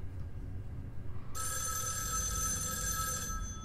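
A telephone rings in the video game Erica, a loud, steady electronic bell tone that starts partway through and continues unbroken over a low background rumble.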